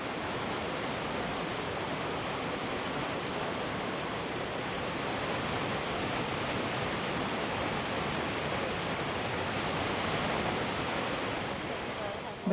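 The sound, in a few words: waterfall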